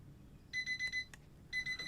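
A digital timer alarm goes off in short beeping bursts, a quick run of four beeps, a pause, then another burst, faint and thin with no speech.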